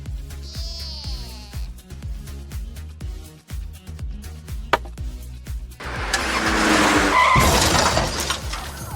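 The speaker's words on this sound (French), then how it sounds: "Tu peux jouer avec ta voiture télécommandée" A remote-controlled toy car whirring along with rapid rhythmic engine-like ticking, then a burst of loud skidding and tire squeal near the end, heard close with no talking.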